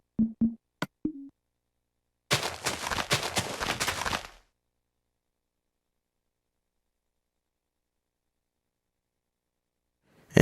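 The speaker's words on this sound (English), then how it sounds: "So I'll give you a brief demonstration of the main forward gun." The main forward gun on a Minecraft naval ship fires in the video game: a few short tones, then a two-second rough, crackling blast that cuts off into silence.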